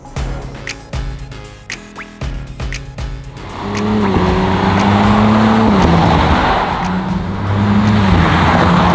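An Audi RS4 Avant with an 8-speed Tiptronic gearbox starts with a few sharp engine and exhaust pulses. It then kicks down into a loud, sustained acceleration, and the engine note rises and climbs steadily and close by with no voices.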